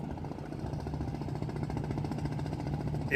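The engine of a river launch boat, a steady low rhythmic thudding chug at moderate level, continuous with no talk.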